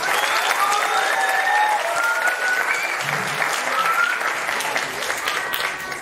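Sustained applause from a gala audience fills the room at an even, lively level, with some whistles and scattered cheering over the clapping.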